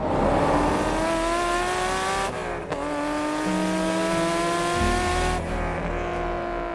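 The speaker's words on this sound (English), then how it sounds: "that exhaust clip of that thing ripping is probably the best exhaust clip I've ever heard" A high-revving Acura NSX sports car exhaust screams through rising gear pulls, with brief drops at shifts, loud and sustained.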